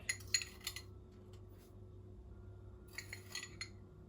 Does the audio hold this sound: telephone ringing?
no